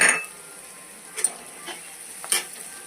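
Chili powder frying with browned onions in a pan for fish curry, a soft steady sizzle with a few brief stirring clinks of a spoon against the pan.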